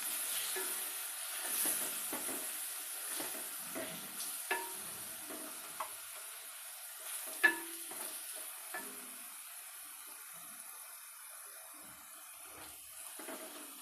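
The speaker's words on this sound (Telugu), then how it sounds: "ఈ మసాలాలు అనేవి వేగేటప్పుడు లో ఫ్లేమ్లో వేయించుకుంటే బాగుంటుంది టేస్ట్ అనేది" Spice masala for a mushroom pulao fries gently over a low flame, giving a soft continuous sizzle and hiss broken by the scrape and tap of a spoon stirring the pan, heard closely with no voices.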